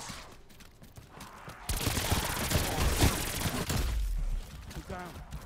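The Death Machine minigun fires in Call of Duty Black Ops Cold War Zombies, a loud sustained burst of rapid gunfire that lasts a few seconds and then cuts off, with game noise before and after.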